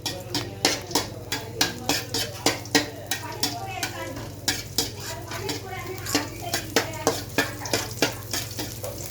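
A spoon scrapes and clinks rhythmically against a pan as bay leaf and cinnamon fry in oil, a soft sizzle running underneath the repeated stirring strokes.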